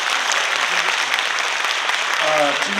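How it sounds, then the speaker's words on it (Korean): An audience applauds after a lecture on reading at a Korean academy event in a hall, dense steady clapping throughout, with a voice speaking over it near the end. "여러분의 감사의 박수를 다시 한번 보내주시기 바랍니다"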